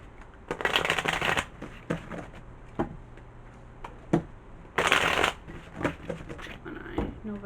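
Tarot cards shuffled close by in two longer riffling bursts, with scattered taps and card flicks between them.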